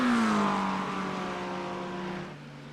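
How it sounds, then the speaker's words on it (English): Engine whine of a race car pulling out of the pits in a Spa 24-hour racing video game, a steady tonal drone that slowly falls in pitch and fades. "Car coming out of the pits, you're clear."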